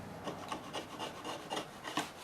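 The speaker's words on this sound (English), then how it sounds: "So just sort of scrape it off. It's got some high spots on it," Steady rhythmic rasping of a blade scraping high spots off a wooden picture frame, close and fairly quiet, with repeated short strokes and no talking.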